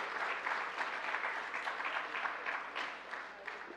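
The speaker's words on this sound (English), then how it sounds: "Please give her a round of applause." An audience at a Tamil economic conference in the USA claps to welcome a speaker, a steady moderate wash of applause heard at a distance throughout.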